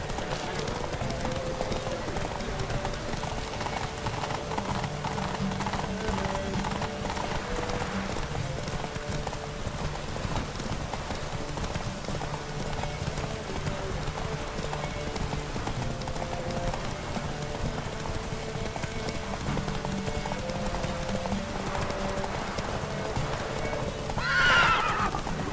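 Horse hooves gallop in a race in The Witcher 3: Wild Hunt, a steady rapid clip-clop pounding throughout with a brief whinny near the end.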